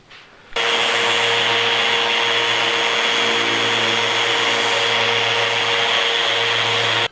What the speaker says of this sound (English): We're going to go to 120 grit, and we're going to put them in random orbit